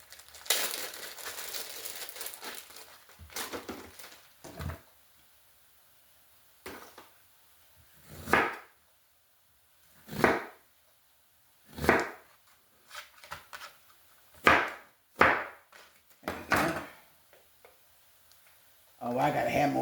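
An onion being chopped with a knife on a wooden board while prepping vegetables for a supreme pizza bake: a dozen or so separate, crisp chops with uneven gaps between them, close and fairly loud, with brief handling noise at the start.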